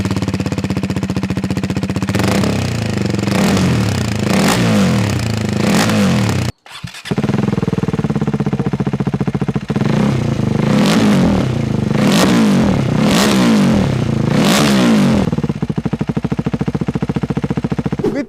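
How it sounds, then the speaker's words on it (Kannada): A KTM 390 Adventure fitted with a full-system exhaust revs hard again and again, loud and close, each throttle blip rising and falling in a steady series with one brief cut partway through, run with and without the dB killer. "ಈಗ ನಿಮಗೆ exhaust note ಕೇಳಿಸ್ತೀನಿ, with dB clear without dB clear sound ಕೇಳಿ ಹುಚ್ಚಾಕಿರಿ"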